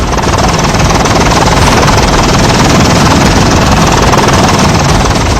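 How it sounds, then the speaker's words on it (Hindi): A rescue helicopter flies overhead during a river flood rescue among hills, and its loud, dense rotor and engine roar fills every moment close up without letting up. "पहाड़ियों से घिरी इस नदी में फंसे शख्स को निकालकर हेलीकॉप्टर सवार रेस्क्यू टीम इस शख्स को एक मैदानी इलाके में उतार देता है"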